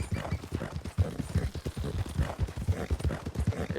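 Rapid, continuous horse hoofbeats in Red Dead Redemption 2, a steady galloping clip-clop close up and loud, running throughout with no talking over it.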